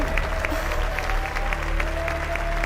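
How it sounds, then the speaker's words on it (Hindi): Applause for the winners of a game contest on a show: steady clapping over a low hum and background tones, with a faint voice underneath. "तो आप सब इनके लिए तालियां बजाएं, ये जीत गए हैं।"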